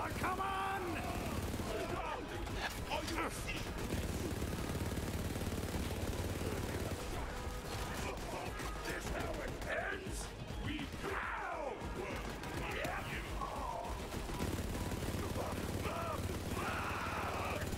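Sustained, rapid gunfire from Borderlands 3 during a gang battle against Chickenman: dense overlapping shots and impacts keep up a busy, loud, unbroken clatter for the whole stretch.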